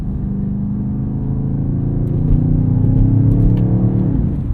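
A 2024 BMW XM Label, a 738 hp hybrid SUV, accelerating: a loud, steady engine drone heard from inside, climbing in pitch as revs rise, with a surge midway and no talk.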